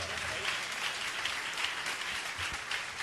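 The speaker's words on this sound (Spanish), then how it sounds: "fuerte el aplauso" A church congregation applauds during a Spanish-language sermon on prophecy: thick, continuous clapping from a large crowd filling the room at an even level, with voices faintly mixed into the roar.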